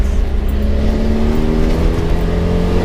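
A Land Rover Defender 90 engine with a straight-through exhaust pipe drones loudly and steadily nearby, a deep, rough hum with a clear, even pitch and no talking over it.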